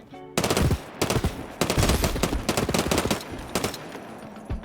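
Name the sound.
gunfire while sliding and jumping in Hawked video game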